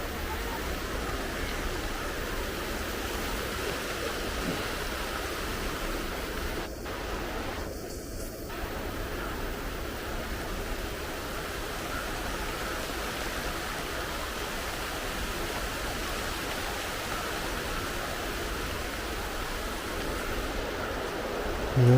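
A steady wash of heavy rain roars in the distance over a town, a broad hiss that stays constant throughout with only a brief faint knock, and no voices.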